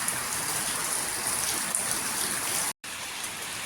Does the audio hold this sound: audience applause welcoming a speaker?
no